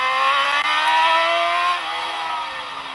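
A racing motorcycle engine at the Macau Grand Prix screams at high revs, holding a steady pitch with no gear change and then easing off the throttle slightly, loud and continuous.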